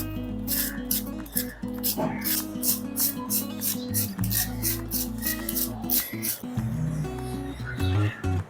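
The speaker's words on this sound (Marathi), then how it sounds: "या स्लायसरने कोबी पटकन किसला जातो जास्त श्रम पडत नाही" Cabbage is grated with a cheap handheld slicer in a rapid series of rhythmic rasping strokes, close and fairly loud, under a low steady hum with brief bits of background voice.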